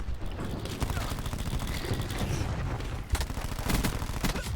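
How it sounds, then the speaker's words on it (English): A cluster grenade going off in Call of Duty: Black Ops 4, a rolling chain of loud blasts and gunfire spread across the clip, with a sharp burst of detonations near the end. "Throwing cluster grenade"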